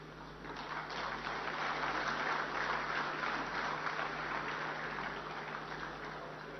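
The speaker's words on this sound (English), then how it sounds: "Can we have a huge round of applause for sir" Large crowd applauding at a congress opening ceremony in a hotel hall, a dense steady wash of clapping that swells and holds, with a low steady hum beneath and no voices.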